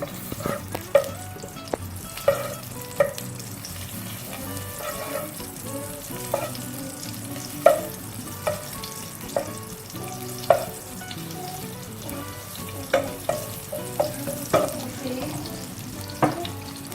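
Two cloves of crushed garlic sizzle steadily in a hot pan, broken by intermittent sharp clanks and scrapes of stirring, close and continuous with no talking.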